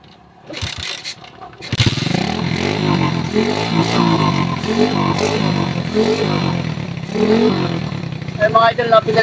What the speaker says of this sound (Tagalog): try natin tong gamitin o paandarin kung may magbago sa andar ng makina ni tropa